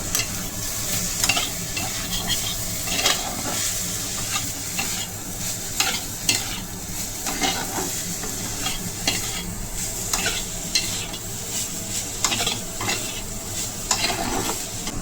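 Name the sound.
stirring momo filling with soy sauce in hot pan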